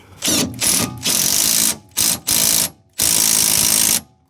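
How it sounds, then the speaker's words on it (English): A wrench ratchets a coilover bolt tight on a 1996–2000 Honda Civic, five close, loud bursts of rapid clicking separated by short pauses, with no talking. "we're gonna tighten this bolt down now"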